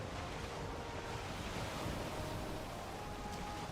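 Ocean waves in Valheim's Ashlands region, a steady broadband wash of surf with wind noise rolling continuously at moderate level, no voices present.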